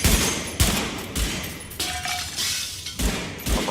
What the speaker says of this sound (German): Aber man kann die ganz kaputt schießen